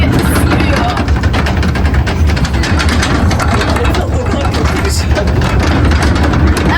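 A tractor engine hauls a safari wagon through a German activity park, its steady low rumble running continuously near and loud while people talk over it.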